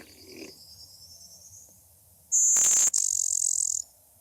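A blue-winged warbler sings its buzzy two-part 'bizz buzz' song, a loud, thin insect-like buzz broken by a short gap, set against a quiet outdoor background.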